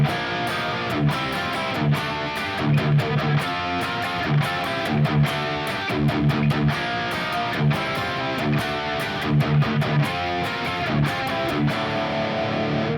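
A distorted electric guitar plays a rhythmic riff over a low D bass note, with punchy repeated chord stabs and muted accents in a steady groove, loud and upfront with no voices.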